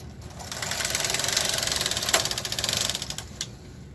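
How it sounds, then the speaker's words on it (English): A KH 230 knitting machine carriage slides across the bed, knitting rows with a rapid, rhythmic clatter of needles, close and fairly loud, swelling and fading over a few seconds with no talking. "And now we are going to knit continuously until we hit the armhole mark."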